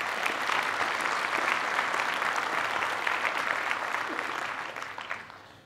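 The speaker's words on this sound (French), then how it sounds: "On peut les applaudir." An audience at a New Year's greetings ceremony claps steadily in a dense, even burst of applause that fades out near the end, without speech.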